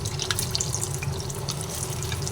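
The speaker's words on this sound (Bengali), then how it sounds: "তেল গরম হয়ে গেছে সেই সময় এক এক করে তেলের মধ্যে প্রত্যেকটাকে দিয়ে দিচ্ছি" Puffed rice chops frying one by one in hot oil, a dense steady crackle and bubbling sizzle at close range with no talk.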